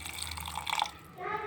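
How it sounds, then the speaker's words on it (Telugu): A glass of water is poured into a mixer jar for chutney, a short splashing trickle that is fairly quiet, with faint background voices around it. "ఇప్పుడు ఇందులో 1 గ్లాస్ వాటర్ వేసుకోండి."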